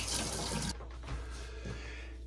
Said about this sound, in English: wash those out in water.